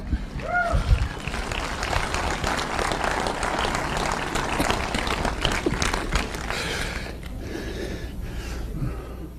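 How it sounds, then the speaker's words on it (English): Crowd applause at a motivational speech event, dense clapping mixed with cheering and voices that tapers off toward the end. "Come on, get over there, a round of applause."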